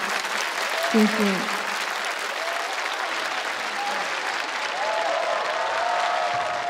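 A studio audience at the singing competition show I Am a Singer, season 2, keeps up sustained, full applause. A voice speaks briefly over it while warbling vocal tones run beneath.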